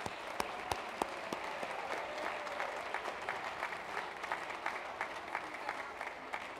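Audience members at a city board of aldermen meeting clap in a round of applause, fairly distant and moderate, with a few sharper individual claps standing out from the continuous patter.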